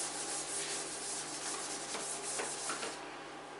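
Writing on a board being rubbed out, a close, continuous scrubbing friction with brief stroke swells, fading slightly at the end, no voices.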